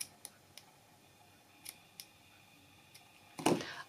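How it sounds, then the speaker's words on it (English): Scissors snip ribbon ends on a handmade bookmark: a few faint, sharp clicks spread across the stretch, then one louder, fuller cut near the end, with quiet room tone between. "Then you can snip the ends just a bit shorter."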